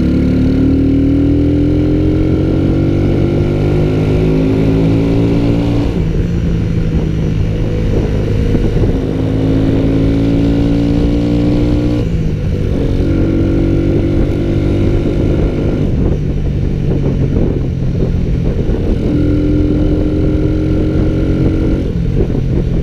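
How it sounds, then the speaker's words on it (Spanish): A steady drone of car engines in slow street traffic in San Salvador, idling and revving in repeated rising swells, loud and close, with no voices. "Hay una gran fila de autos que queriéndose incorporar a lo que es a la Jerusalén"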